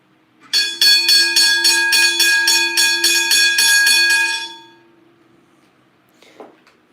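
A Westinghouse searchlight railway signal bell rings loud and close indoors, a rapid metallic series of strikes with a ringing tone, stopping after about four seconds, followed by a faint click.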